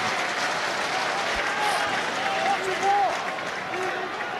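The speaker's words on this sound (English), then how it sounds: "Gets a round of applause" Spectators at a rugby match between Ulster and Treviso applaud a missed kick, a broad, distant stadium clapping with a commentator speaking over it.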